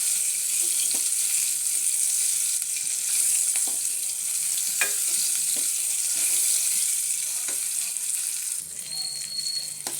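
Vegetables with carrot frying in a little oil in a pan, a loud, steady hissing sizzle with occasional light clicks of stirring and a faint whistle-like tone near the end.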